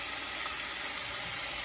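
Coconut curry chicken ingredients sweating in oil in a pan, making an even, soft hiss that stays steady and fairly quiet throughout, with no talking.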